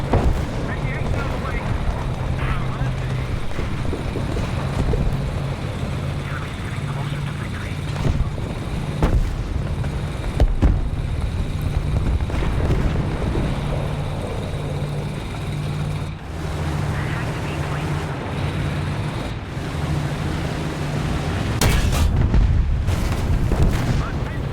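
Artillery fire in War Thunder, a continuous heavy rumble of booms and distant blasts with engine drone beneath, punctuated by a few sharper thuds near the end.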